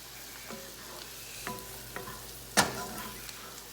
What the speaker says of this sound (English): I'm gonna mix this around,